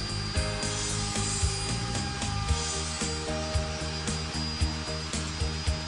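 Wood router cutting material from a workpiece while guided by a Milescraft 1298 3D pantograph, a steady loud motor whine with rhythmic grinding pulses from short back-and-forth strokes, no talking.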